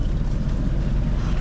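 A sailboat motoring on the open sea in fair weather with a gentle swell: a steady, loud engine drone and rushing water wash run unbroken throughout, with no voices.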